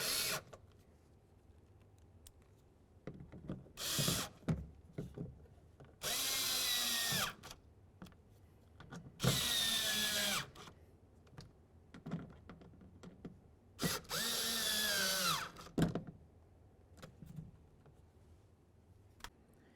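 A power drill drives window regulator mounting bolts on a Dodge Journey in several short bursts, each a rising high whir with a brief pause between, close by and with light handling clicks between runs.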